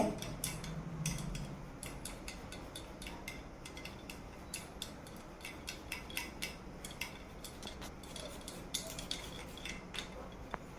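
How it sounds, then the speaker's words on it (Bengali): Boiled potato is grated onto bread by hand, producing a quiet, rapid series of scraping strokes in an uneven rhythm, close by and soft, with no speech. "এখন এই সেদ্ধ করা আলুটা একটু গ্রেট করে দিতে হবে এই ব্রেডের উপরে।"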